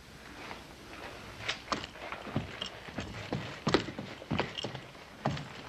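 Horse hooves clip-clopping at a walk outside near a town stable, an uneven series of hollow knocks, fairly close and alone without talk.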